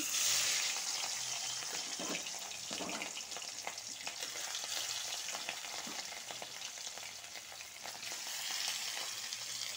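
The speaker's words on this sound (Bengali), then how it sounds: "কড়াই গরম হয়েছে, মাছটা ভেজে নিব।" Local rohu fish frying in a hot wok gives a continuous close sizzle with bursts of crackle and spatter throughout, no talking.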